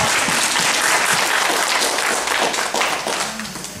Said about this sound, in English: That alone, I think, deserves a round of